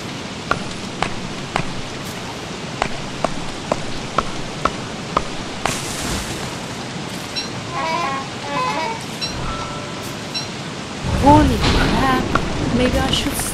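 Rain in the video game Don't Starve, a steady hiss of falling drops with regular soft ticking effects, later joined by game sounds and a louder rushing swell near the end, under a player's voice.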